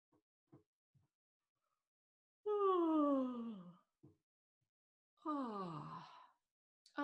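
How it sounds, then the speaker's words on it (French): Two long, drawn-out human yawns with falling voiced tone, each lasting over a second and close to the microphone, during a seated relaxation and breathing exercise with faint small sounds between them. "J'avais pas encore bâillé aujourd'hui."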